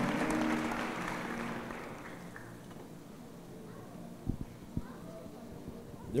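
Church congregation applauding during a worship service, a broad wash of clapping that is loudest at the start and slowly thins out, with a few sharp thuds near the end.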